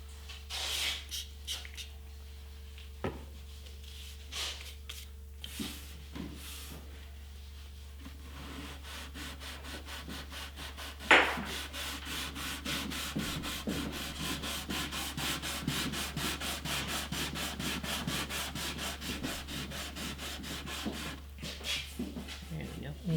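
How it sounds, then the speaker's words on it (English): Rhythmic rubbing of wet sanding strokes on the French polish finish of an antique wooden parlour guitar, steady and close, with scattered talk and a sharp knock partway through. "Especially when you're sanding something that will come off in layers"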